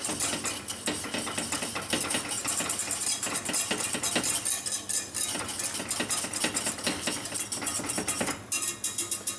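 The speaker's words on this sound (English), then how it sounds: "We just want to put a few knobs into here, whisk it in" A whisk works a flour-and-butter roux into pot roast liquid from a wild pork leg, giving brisk, continuous metallic scraping and clinking against a pot in rapid irregular strokes, close and busy, with a faint hum beneath.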